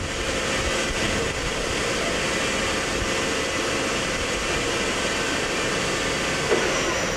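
A Daewoo Puma 300LC CNC turning center runs its spindle at 1,200 RPM, giving a steady, loud machine drone and hum throughout, close and continuous with no talk over it.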